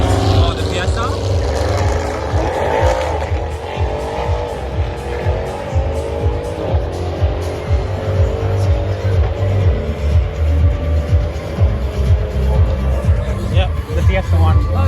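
A Ford Fiesta and an Audi RS6 race around a track at a Euro car show, engines droning loudly and continuously with tire noise, while people talk over the roar.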